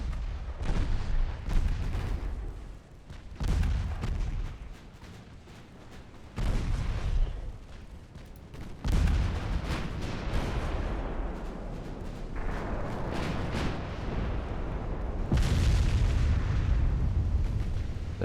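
Naval guns fire at a battleship in the naval game Ultimate Admiral: Dreadnoughts, a 1903 French campaign; repeated heavy booms and blasts arrive at irregular intervals with rumbling decay between them.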